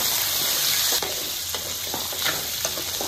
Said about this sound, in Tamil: சின்ன வெங்காயம் பூண்டு இந்த சீரகம் மிளகு போட்டு நல்லா வதக்கிக்கணும்